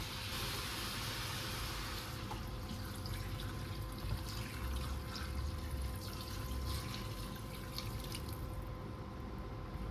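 Water poured into a pot while making traditional pistou soup with garlic, a steady faint rushing, trickling sound with a constant low background hum and no talk.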